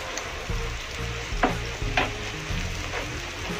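Oyster sauce poured into a frying pan with tomato and stirred for a sweet-and-sour fried egg dish, a steady sizzle with a couple of sharp scraping stir strokes, close and alone.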